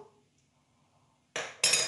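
A metal lid goes onto a saucepan of potatoes in a home kitchen: after near silence, two quick bright clanks of metal on metal land close together at the end.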